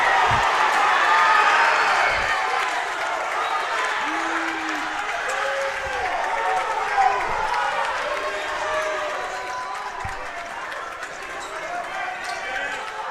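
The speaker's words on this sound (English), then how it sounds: "they call a charge on Suburban, but they don't call it on Heartland. That's what the crowd is angry about" A packed gym crowd at a varsity boys basketball game, Heartland vs Suburban, roars in sustained protest at a referee's charge call, with ball bounces and sneaker squeaks cutting through while a commentator talks over the din.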